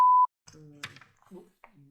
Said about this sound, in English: Sorry if that was suddenly beeped.